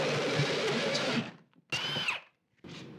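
A 4.5-inch hole saw cuts into a wall for a mini split line set, giving a loud, close grinding whir for over a second, then a short second burst that rises and falls in pitch, and a third start after a pause.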